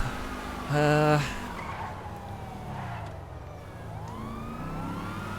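A police car siren in the video game GTA 5: one short, loud wail early on, followed by ongoing car engine noise and tire skids in the background.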